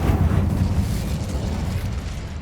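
A deep, roaring burst of the Incendio fire spell in Hogwarts Legacy, a loud rumbling blast that fades slowly over a couple of seconds.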